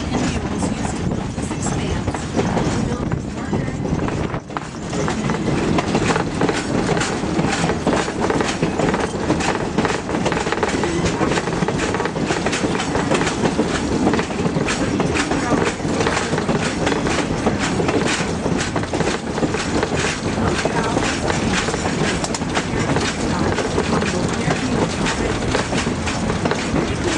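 A Verde Canyon Railroad train rolls along its track, giving a steady loud rumble with a rhythmic clatter of wheels over the rails that runs without a break, while voices murmur faintly underneath.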